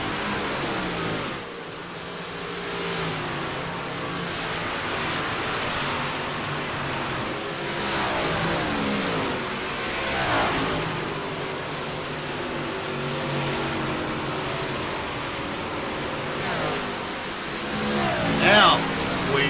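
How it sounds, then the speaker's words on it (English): Race cars roaring around a dirt oval at night, a steady broad engine rumble with passing surges throughout, with voices talking over it. "A lot of fast cars out here tonight, and man, it has been a battle."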